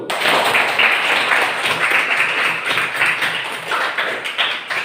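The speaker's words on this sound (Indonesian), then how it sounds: "Aplaus untuk kelompok 1." A classroom audience applauds a student group after its presentation in a lesson on Islamic law, a dense, loud, continuous patter of clapping that lasts throughout.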